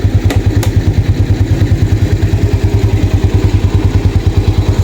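A motorcycle engine runs loud and close at a fast, even idle after being started during troubleshooting of a no-start and lighting fault, its steady pulsing broken by a couple of sharp clicks early on.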